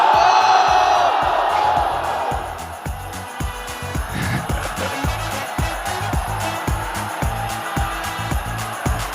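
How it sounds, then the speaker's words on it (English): A large crowd at a Kuro Games event cheers and roars loudly at first, with the noise easing into a sustained crowd din alongside a steady rhythmic thumping. "We gotta get that hype crowd reaction."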